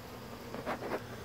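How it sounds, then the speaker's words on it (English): Honey bees dumped out in a chicken pen buzz in two brief, close swells over a faint steady background hum. "I come up here in the chicken pen and I dump these bees out."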